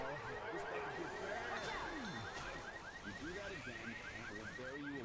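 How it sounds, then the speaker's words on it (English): A car alarm in the Left 4 Dead video game wails with a fast repeating up-and-down siren pattern, steady and moderately distant, under faint game noise. "And this might be a car alarm."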